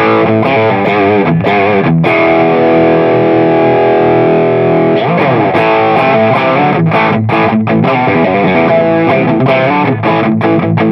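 A Boss SD-1 Super Overdrive guitar pedal with the drive set just past noon, level and tone raised, gives loud, saturated overdriven electric guitar, with sustained chords and riffs that ring out and stop abruptly, played alone without talk.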